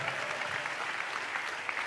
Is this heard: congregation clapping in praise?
yes